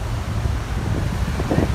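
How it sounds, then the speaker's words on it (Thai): Heavy wind from an incoming storm buffeting a microphone on the coast, a constant low rumbling roar with gusty bursts. "นี่ต้องเอามือบังไมโครโฟนไว้อะลมแรงมาก"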